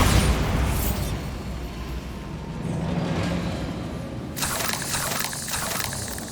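A Bombarda spell explodes in Hogwarts Legacy, a deep booming burst with a long rumbling tail, followed by a bright crackling wash of debris or magical spray. No one speaks.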